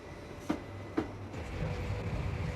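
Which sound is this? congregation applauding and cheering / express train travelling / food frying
express train travelling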